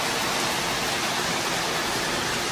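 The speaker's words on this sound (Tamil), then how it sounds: "நல்ல மழை பெஞ்சிக்கிட்டு இருக்கு" Heavy rain pours steadily close by as a constant, dense broadband hiss with no distinct drops or pauses, loud and unbroken throughout, with no voices over it.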